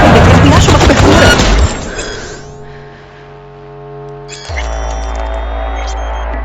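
Gunfire in the video game Cyberpunk 2077, a loud burst of shots and impact crashes followed by a ringing, muffled hit effect and a low droning hum.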